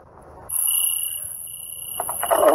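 Outdoor night insects, likely crickets, trill in a steady high-pitched drone that starts abruptly and continues throughout, with a brief rustle or tap near the end.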